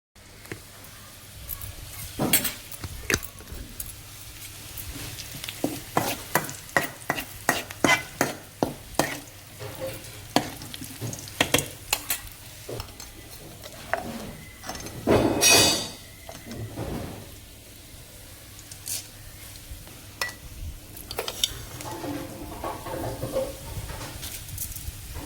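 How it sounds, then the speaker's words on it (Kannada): Onions and curry leaves fry in a pan while a spoon scrapes and stirs them in irregular bursts of clatter over a soft, steady sizzle, close by. "ಈರುಳ್ಳಿ ಮತ್ತು ಕರಿಬೇವನ್ನು ನಾನು ಇಲ್ಲಿ ಫ್ರೈ ಮಾಡ್ತಾ ಇದ್ದೇನೆ"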